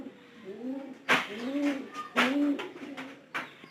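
Close pigeon cooing in repeated rising-falling phrases, roughly three coos, punctuated by sharp flapping or scuffling bursts between them.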